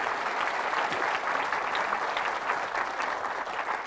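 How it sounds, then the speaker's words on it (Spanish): Church congregation applauding a religious figure during a Spanish-language sermon, steady dense clapping at moderate volume that fills the whole stretch without pause. "Un aplauso al Emmanuel."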